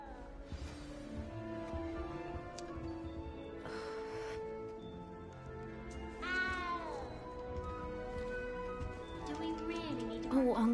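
A cat in a Harry Potter castle video game meows several times, drawn-out and wavering calls rising over background game music and ambience.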